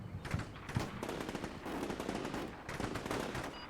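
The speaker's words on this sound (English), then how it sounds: "the MG's lighting up these guys" Rapid machine gun fire rattles through a video game, with dense, continuous bursts close and loud throughout.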